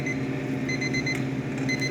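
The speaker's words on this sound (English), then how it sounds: "Timer's going off." A kitchen timer alarm goes off while coffee beans roast, beeping steadily and moderately loud over a continuous hum from the roaster.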